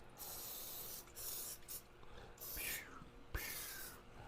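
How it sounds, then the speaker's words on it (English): Cooking spray misted from a can onto a baking dish in several short hissing bursts with brief pauses between, close and fairly quiet. "We're gonna spray said baking dish"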